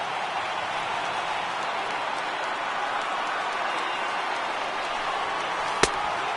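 A baseball video game crowd of more than 37,000 rises to its feet and cheers on PS4, a steady, dense roar that holds level throughout, with one sharp click near the end.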